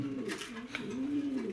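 High-flying racer pigeons coo in a soft, low, rolling burst, one continuous warbling call close by with faint background noise.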